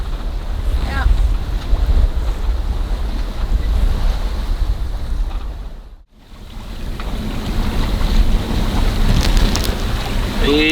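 Strong gusting wind buffets a sailboat on open water near Rungsted, a loud roaring rush with heavy microphone wind noise and wave wash, easing briefly in a lull before surging back.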